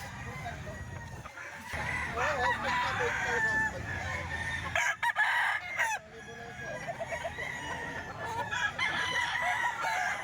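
A stag rooster crows and clucks nearby, with bursts of calls rising and falling over a noisy yard background; someone talks intermittently underneath.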